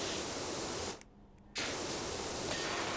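A video-game water sprayer blasts through gaps with a loud, continuous hiss that cuts out for about half a second near the one-second mark, then resumes just as strongly.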